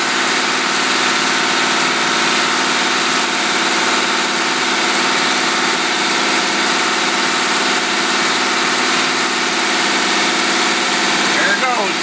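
A boat engine fitted with a two-barrel carburetor idles loudly and steadily with constant low rumble and vibration, running alone without change throughout.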